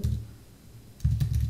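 Close computer keyboard typing: a short burst of key clicks, a brief lull, then another quick run of taps.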